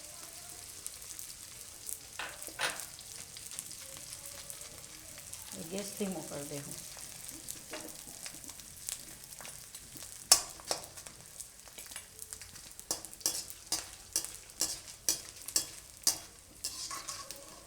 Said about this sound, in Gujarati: તો આ રીતનો ગુંદ આપણે તરી લેવું